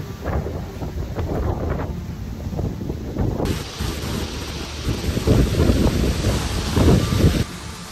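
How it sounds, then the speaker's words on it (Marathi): Strong gusty wind with heavy monsoon rain on Jivdhan Fort in fog, roaring and buffeting the microphone in loud, uneven surges over a constant rain hiss. "गडावर सोसाट्याच्या वाऱ्यासह धुके आणि मुसळधार पाऊस सुरू झाला"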